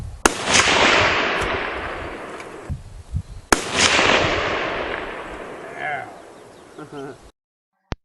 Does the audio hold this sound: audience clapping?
no